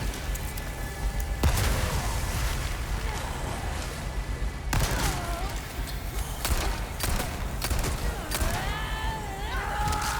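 Repeated gunfire and reloading clicks in Resident Evil 4 Remake, sharp shots scattered among mechanical handling sounds and dense game ambience, with talking throughout.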